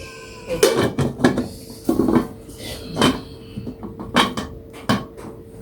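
Small pans being handled while unboxing, giving several separate metallic clanks and clatters at irregular intervals, fairly close and clear against a quiet background.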